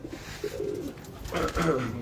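Falaksher pigeons coo in low, soft repeated phrases on a rooftop, moderately close, with a fuller burst of cooing toward the end and faint background noise.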